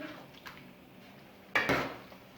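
A metal utensil scrapes and clanks against a pot while mixing egg biryani, a light tap early on, then a louder burst of stirring clatter near the end.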